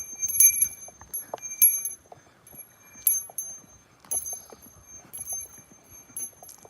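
A small bear bell jingles repeatedly in bursts of bright ringing, with soft footsteps and rustling underneath, outdoors in Japan near a bridge and fairly close.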